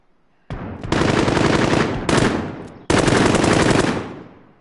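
Sustained automatic gunfire in a multiplayer shooter video game, loud and close, in three long bursts separated by brief breaks, with no talking over it.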